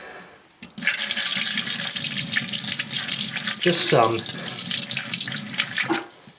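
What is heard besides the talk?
liquid being poured into drain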